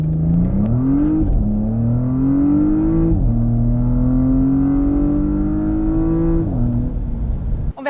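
A 2017 Porsche Panamera 4S with a 2.9-litre biturbo V6 accelerates hard from inside the cabin, its steady engine drone climbing in pitch through several gears with brief dips at each upshift.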